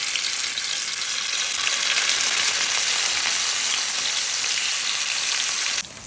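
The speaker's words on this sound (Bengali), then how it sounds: "এখানে তেল গরম করতে বসিয়ে দিছি এই যে রুই মাছ, এই মাছগুলো আমি ভেজে নিব" Rohu fish fry in hot oil with a loud, close, continuous hiss and sizzle that drops off abruptly near the end.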